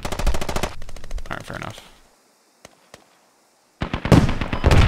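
Rapid automatic gunfire in the military shooter game Squad, with loud bursts opening and closing the clip around a brief near-silent gap holding a couple of isolated shots, a voice speaking briefly over it.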